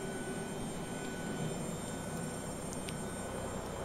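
A Boeing 737-300 jet engine spooling up during start in a flight simulator gives a steady, even roar with a faint whine above it, and no voices.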